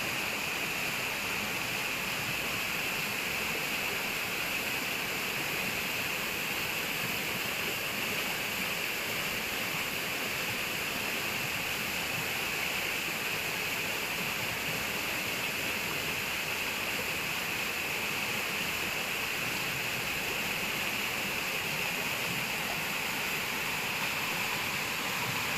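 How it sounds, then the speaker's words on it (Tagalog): A rushing river current in a forest gives a steady, dense roar of churning water, loud and unbroken from start to finish with no voices. "Lumakas na ito ng mga agos."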